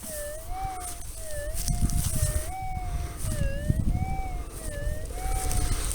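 A warbling electronic tone from a GPX metal detector signalling a buried bullet rises and falls repeatedly over a low rumble of wind and handling noise, fairly steady throughout.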